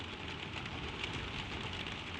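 Gentle rain on a rainy night falls in a continuous soft hiss of drops, steady and even from start to finish with no other sounds standing out.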